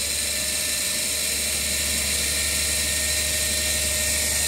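DC shunt generator running under a load test, a steady loud mechanical whine and hum with a high-pitched tonal drone, unbroken throughout with no speech.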